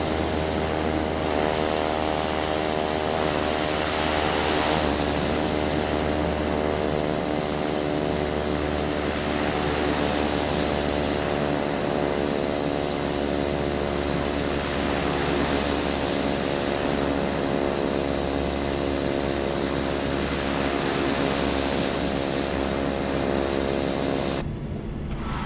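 Steady loud drone of a Cessna Caravan turboprop engine and propeller in a flight simulator, a constant whining hum with a buzzing propeller tone during landing rollout that shifts pitch slightly and cuts down sharply near the end.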